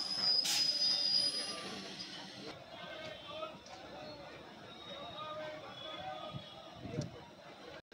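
An up Sealdah–Shantipur EMU train pulls into platform 3 at Kanchrapara in the evening, its wheels letting out a loud, high squeal that fades to a steady rumble and clatter, with voices faintly under it.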